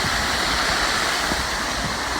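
Carrot Creek at Table Rock rushes in a steady, loud, broadband wash of flowing water, close by and unbroken, with no voices over it.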